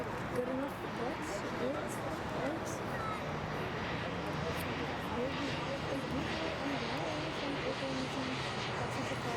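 A fixed-wing airliner arriving from Bergen lands at Frankfurt Airport, its engines a distant, steady roar rising and falling with wind and crowd murmur around the spotting area.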